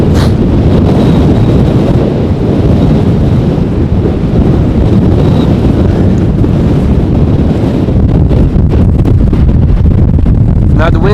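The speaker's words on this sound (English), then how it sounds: "Now the wind is blowing from behind the way I'm currently standing" Heavy wind buffets a microphone outdoors during a storm at Amsterdam Schiphol airport, producing a loud, constant roaring rumble that fills the whole stretch, with a brief whistling tone and crackling gusts near the end.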